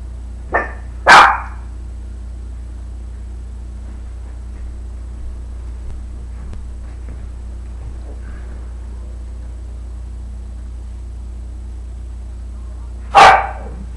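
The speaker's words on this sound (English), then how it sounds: "They're barking at the wall that's right there" Two dogs barking indoors, a couple of sharp nearby barks at the start and one more near the end, with quiet room hum and a faint low drone in between.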